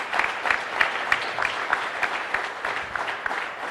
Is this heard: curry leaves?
no